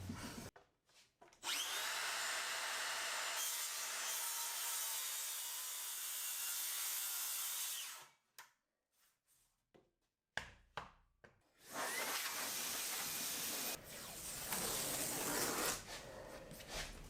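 Makita saw cutting scrap wood, two long loud steady cutting runs close up, separated by a short pause, with no talk.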